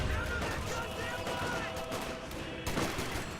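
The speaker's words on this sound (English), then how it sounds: "He's shooting a rifle grenade at me." Company of Heroes 2 battle, with a rifle grenade and rifle and machine-gun fire from bunched Wehrmacht infantry, heard as a dense, steady rattle of gunfire and blasts with a sharper burst near the end.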